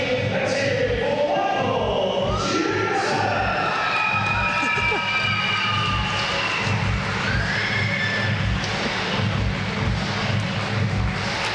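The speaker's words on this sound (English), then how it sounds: "the crowd do go absolutely crazy, and rightly so." A crowd goes wild at a swimming medal presentation during the 2014 British Gas Swimming Championships finals, cheering for a home favourite. The loud, steady roar continues throughout, with shrill whistles rising above it and a voice talking underneath.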